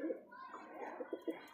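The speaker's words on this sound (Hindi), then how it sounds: "ये कबूतर थोड़ा पहलवान निकला तगड़ा" Pigeons coo during a fight, with short soft throaty bursts repeating at a moderate level against faint background noise.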